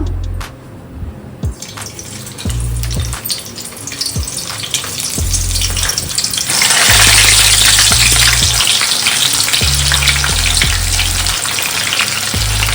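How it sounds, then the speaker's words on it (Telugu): Bitter gourd pieces, seeds removed, fry in a small amount of oil with a steady crackling sizzle that swells louder midway, alongside low rhythmic thumps in the background, with no one talking. "కాకరకాయలు గింజలు లేకుండా చూసుకుని ఈ కొంచెం నూనెలో వేపుతున్నాను"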